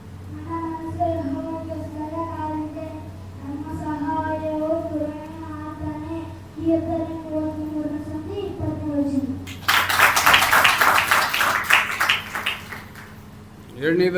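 A group bursts into applause for several seconds of loud, dense hand clapping, right after a stretch of a young voice speaking steadily at close range.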